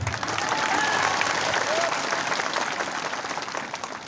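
A crowd at a public political gathering applauds, dense continuous clapping that holds steady for a few seconds and then eases slightly, fairly loud and close.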